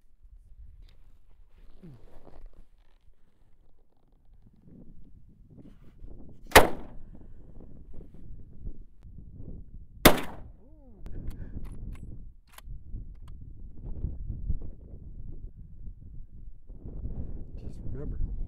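A rifle fires single rounds during a beginners' gun safety and handling lesson, with two sharp, loud cracks several seconds apart and a fainter third report. An instructor talks throughout, and there is wind noise.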